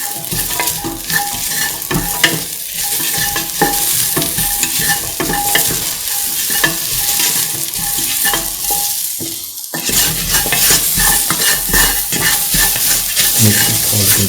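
Salt is stirred into duck coconut milk rice in a pan, a steady scraping stir over a continuous sizzle, close and busy, with a brief pause before the stirring resumes; no voices.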